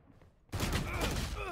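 Rapid bursts of gunfire in a Valorant deathmatch erupt suddenly after a quiet moment, loud and dense, continuing as a sustained fusillade with a voice speaking over it.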